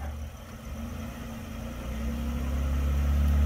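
A vehicle engine idles and then builds to a louder, deeper drone as it backs up to shift out of four-wheel drive, a close and steady rumble with no voices.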